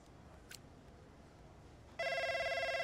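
Telephone ringtone in the F1 25 Braking Point racing game breaks in after a quiet stretch with a brief chirp, then rings loudly with a bright repeating electronic trill that fills the final second.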